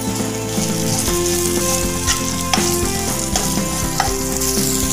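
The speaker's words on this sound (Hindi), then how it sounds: "ये मिर्च और लहसुन सारी चीज़ें हमारी भुन चुकी हैं" Green chillies and garlic fry in a pan for a spicy chutney, giving a dense, steady, close sizzle with light crackles and occasional stirring scrapes, no voices.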